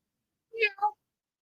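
A cat gives a short two-part meow, close and clear against silence, at a watch party.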